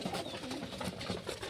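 Pigeons coo softly and continuously in a low, murmuring chorus at a feeding spot, the soft rolling calls overlapping at a moderate distance with no speech.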